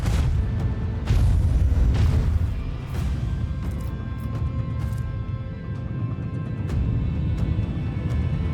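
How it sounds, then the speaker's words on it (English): Macro cannon salvo aboard a warship in a Warhammer 40k space battle game: heavy booming blasts, a strong burst around the first seconds then rolling rumble with scattered sharp crackling impacts, loud and sustained, no speech. "Macro cannons, open fire."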